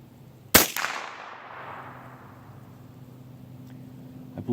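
A single sharp .22 rifle shot from a custom Bayer barrel firing Remington Viper ammunition outdoors, a crisp crack followed by a fading echo, then quiet ambience with a faint steady hum.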